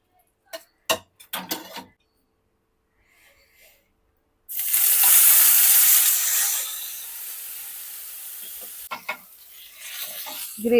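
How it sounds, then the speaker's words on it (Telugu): Chicken hits hot oil in a grill pan, bursting into a loud, bright sizzle that slowly fades, with a few knocks and handling sounds before and after. "ఈ గ్రిల్లో పెట్టి నేను ఆయిల్ వేసేసి దీన్ని ఇప్పుడు దీంట్లోనే ఫ్రై చేస్తున్నా"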